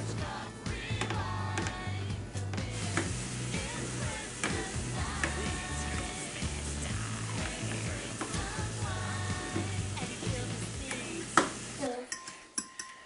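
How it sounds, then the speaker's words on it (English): Egg being whisked with mustard and cream in a bowl, a busy, continuous clatter and scrape of the whisk against the bowl, close and steady for most of the clip before stopping near the end. "You whisking the egg?"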